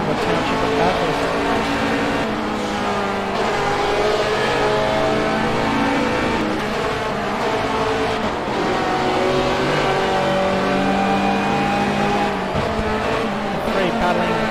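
A Ferrari GT3 race car roaring around the Mount Panorama circuit at Bathurst, its exhaust a loud, sustained high-revving wail with shifting pitch through gear changes, steady and close throughout.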